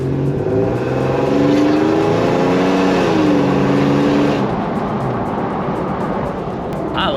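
A third-generation Toyota 4Runner's engine through a newly finished exhaust while driving, a loud, steady drone that climbs in pitch as it accelerates, eases off, then settles into a lower rumble.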